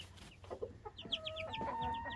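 A curious rooster in a backyard flock gives a run of short clucks and chirpy calls, fairly close and moderately loud, with other fowl sounds nearby.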